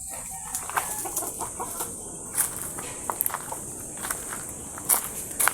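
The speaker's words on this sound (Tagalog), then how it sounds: "napakatapang nitong manok na to" A brooding hen in a backyard clucks in soft, scattered bursts, fairly close, alongside intermittent footsteps shuffling over the ground; no one speaks.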